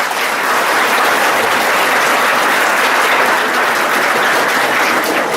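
A school audience gives a sustained round of clapping for students who placed first, dense and even throughout, with no voices rising above it.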